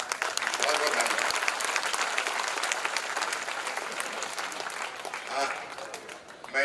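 Sustained audience applause at a Sardar Patel birth anniversary ceremony, a dense steady wash of many hands clapping that holds for several seconds, swelling slightly near the end.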